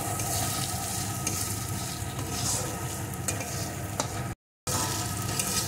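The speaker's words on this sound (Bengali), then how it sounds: "মুসুর ডালটাও একটু কষিয়ে নেব মশলার সাথে" Masoor dal lentils are sautéed with spices in a pan with a soft continuous sizzle and scraping stirs, a few sharper clinks, and a brief dropout near the end before the frying resumes.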